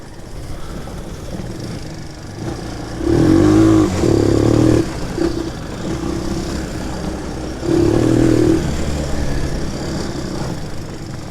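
A Shineray 250 quad's engine idles, then revs hard in two bursts of a few seconds each, close and loud, with mechanical clatter between the revs and no talking.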